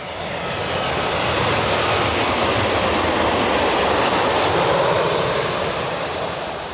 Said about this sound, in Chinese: 录飞机经过的时候